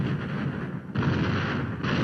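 Battleships Rodney and King George V fire their big guns on the Bismarck, heavy booming blasts in two loud bursts with rumbling noise between them.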